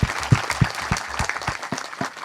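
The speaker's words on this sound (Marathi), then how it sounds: "तुम्ही सगळेजण या आलेल्या साधूंचे आणि हरिभक्तांचे टाळ्या वाजून स्वागत करा सगळेजण." Clapping at a kirtan gathering as an audience welcomes sadhus and devotees, with loud, rhythmic, fairly even beats about three per second from a nearby crowd.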